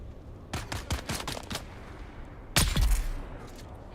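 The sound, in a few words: sniper gunfire in the video game Dune: Awakening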